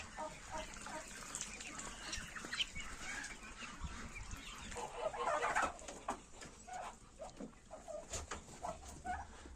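Young chickens and small chicks in a poultry yard peep and chirp in scattered bursts, faint and somewhat distant, with a soft background murmur.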